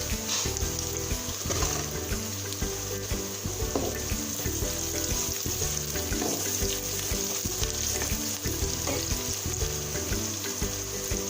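Onions fried to light brown sizzle steadily with cinnamon pieces in a pan for dhaba-style achari chana daal, with a continuous close crackle and occasional stirring clinks.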